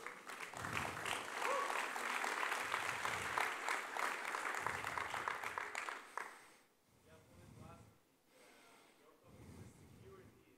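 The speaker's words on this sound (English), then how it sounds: "Yeah, you can clap for that. That deserves some clapping." Audience applause for a speaker at Blockshow Europe, a blockchain conference, with dense clapping for about six seconds that then fades, leaving a quieter room and a few scattered bursts of sound.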